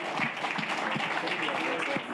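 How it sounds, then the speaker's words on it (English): A round of applause from the audience at a beat maker discussion panel, clapping mixed with voices and scattered whoops, moderately loud and steady throughout. "give another round of applause for this guy"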